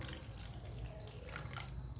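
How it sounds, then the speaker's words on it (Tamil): Close, continuous trickle of water pouring into a bowl of sugar for wheat-flour biscuit dough, with light splashing and dripping texture throughout. "தண்ணி கொஞ்சம் ஊற்றிக்கணும்"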